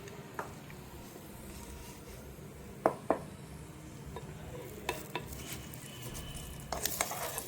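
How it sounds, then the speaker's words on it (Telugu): Oil sizzles steadily as coriander seeds, cumin, mustard seeds, dried red chillies and curry leaves are stirred for tempering, with a few sharp clinks of a spoon against the pan. "తాలింపు వేసామండి తాలింపు ధనియాలు కొద్దిగా జీలకర్ర కొద్దిగా ఆవాలు ఎండుమిర్చి కరివేపాకు"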